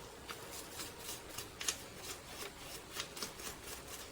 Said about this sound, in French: je prends une brosse à dents. Je trempe un peu dans l'essence. Puis je viens frotter le carburateur.